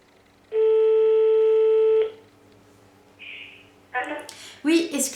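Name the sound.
telephone tone after the phone call cut off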